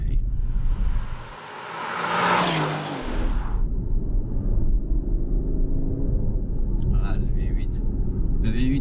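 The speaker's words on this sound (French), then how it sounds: "Le V8 à 3000 tours." Aston Martin Vantage V8 with an English exhaust revs to about 3000 rpm, a loud surging roar swelling for two seconds over a steady low engine rumble that continues throughout.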